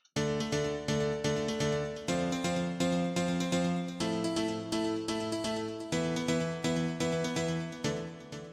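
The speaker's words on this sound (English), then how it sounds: "Using the M1 house split piano, again on the Korg M1." Korg M1 house split piano played in pitched octaves, a bright, punchy chord stab repeated in a steady rhythm with regular chord changes, loud and alone without talk.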